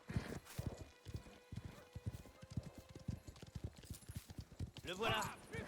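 Rhythmic horse hooves clip-clopping in Mafia: The Old Country, a steady close trot of hollow knocks with a brief whinny near the end and game voices speaking in French.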